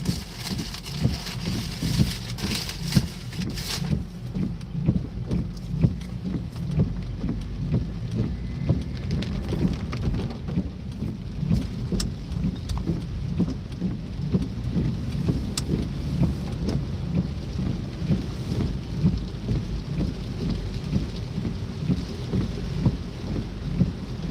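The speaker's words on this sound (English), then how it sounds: "it's not as rainy as it was. A little bit of rain" Light rain falling outdoors near a flooded creek, a steady soft patter with low rumbling traffic or wind underneath, continuous and fairly close throughout.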